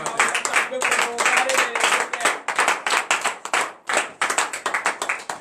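A church congregation at morning prayer in Benin claps and shouts acclamations to the Lord, with loud, rapid, uneven clapping and cheering voices all the way through.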